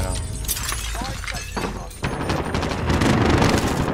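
Rapid video-game gunfire, loud close bursts and crackling shots with shattering impacts, briefly easing before a heavier sustained barrage, a voice faintly in the mix.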